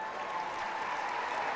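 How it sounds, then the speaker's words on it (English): A baseball crowd in Wichita, Kansas gives a short, moderately distant round of clapping, a steady patter lasting under two seconds without talk. "gets a hearty clap from this Wichita crowd"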